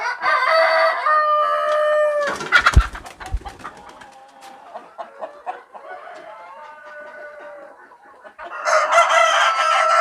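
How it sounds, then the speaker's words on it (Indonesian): KUB native chickens at a breeding farm, a close rooster crow with clucking and busy cackles from the flock, a pause of scattered quieter calls, then another loud burst of crowing. "Wow, ayam"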